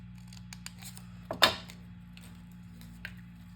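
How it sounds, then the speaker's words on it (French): Scissors snip through paper borders for a scrapbook album, a few soft close clicks leading to one sharper cutting snip, then quiet, over a low steady hum. "il va falloir les découper"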